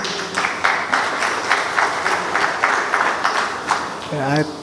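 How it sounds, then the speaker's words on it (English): Audience applause at a global shipping conference, a dense burst of clapping from the crowd that rises and falls in waves, with a voice starting to speak at the very end. "I thank you for the applause"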